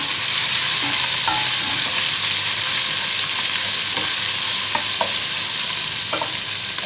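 Onions with ginger and garlic frying in a pan, a steady loud sizzle with occasional stirring clinks and scrapes, close up throughout.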